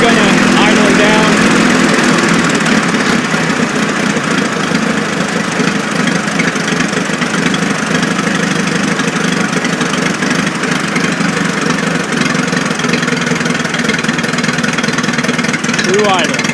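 An engine running at a steady idle before shutdown, close and loud, with an even drone that continues unbroken throughout.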